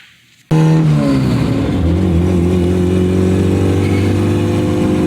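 A car engine fires up after a transmission repair, then runs and revs steadily, loud and close, with a strong harmonic drone that rises and settles into a constant idle. No one speaks.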